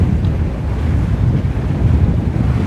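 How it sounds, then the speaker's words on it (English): Stormy ocean at Busselton, Western Australia: heavy wind buffets the microphone in a constant low roar while surf and waves churn beneath it, loud and unbroken with no one speaking. "Notice the angle of the waves have changed when they come in like that."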